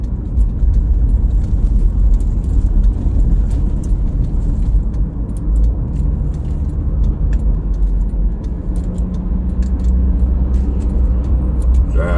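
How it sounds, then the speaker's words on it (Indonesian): Heavy vehicle and early-morning traffic on the inner-city Jakarta toll road, heard as a loud, continuous low engine and tyre rumble close by, with no talking. "Dan sebelah kiri kami ada kendaraan berat."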